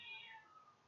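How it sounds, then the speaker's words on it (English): A cat meowing at a doorway, a single drawn-out tonal meow that slides downward and fades, heard close but quietly with no talk. "you're at my doorway fucking meowing"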